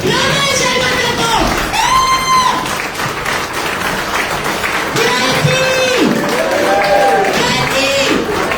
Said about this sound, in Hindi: खड़े होकर तालियों के साथ इनवाइट करेंगे